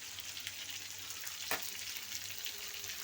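Food sizzles steadily in a hot pan on a lowered flame during Ramadan sehri cooking, a constant close crackling hiss with one brief louder sputter midway and no voices.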